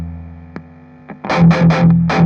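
Electric guitar chords played through a King of Tone overdrive feeding a Bluesbreaker overdrive, a couple of sparse muted plucks first, then thick driven strums ringing out in bursts, loud and close.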